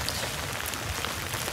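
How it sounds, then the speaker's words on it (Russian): Rain drumming steadily on an umbrella overhead while walking, a close, dense, even patter with no voices. "По зонтику колотит дождик."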